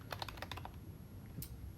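Bursts of computer keyboard typing while setting up a food review website, a quick run of clicky keystrokes near the mic followed by a pause and one last isolated tap.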